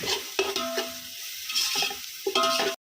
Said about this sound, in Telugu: ఆనియన్స్ చక్కగా ఫ్రై అయిపోయిన తర్వాత ఇందులో కొంచెం పచ్చిమిరపకాయ పేస్ట్, కలుపుకోవాలి చక్కగా.